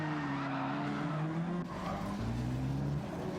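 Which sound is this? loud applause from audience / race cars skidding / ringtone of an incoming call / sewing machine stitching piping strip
race cars skidding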